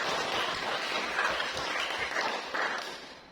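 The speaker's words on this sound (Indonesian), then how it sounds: "Tepuk tangan dulu buat anak-anak." Classroom students applaud together, a dense, steady patter of many hands at moderate distance that fades slightly toward the end.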